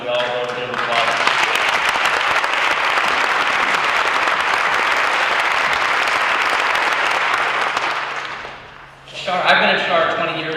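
Sustained audience applause fills a tribute concert hall for Bob and Pam Phillips, steady and dense for about eight seconds before fading, after which a voice begins speaking.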